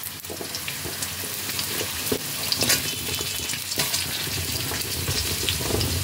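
Vegetables such as potato, pumpkin, radish and beans sizzle in hot oil in a pan while being stirred, a steady crackling fry with scraping and clinking of the spatula, close and continuous.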